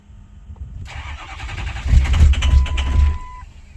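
A 2006 Ford F350 with a 6.0 Powerstroke diesel that has sat for five years cranks on its starter, a loud, churning, rhythmic whir that grows heavier partway through without the engine catching.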